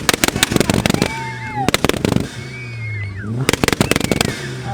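A two-stepping car at a CCE meet fires rapid, loud exhaust pops and bangs in machine-gun-like bursts between high revving, with crowd voices and whoops underneath.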